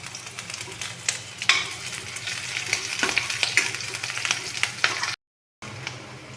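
Garlic, cumin and green chili frying in hot oil for moong masoor dal, a steady close sizzle with crackles and the scrape of stirring throughout, cut by a brief silent gap near the end.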